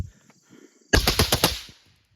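A rifle with a binary trigger fires a fast string of about six to eight sharp, loud shots in under a second, close by, with a brief echoing tail after a quiet lead-in.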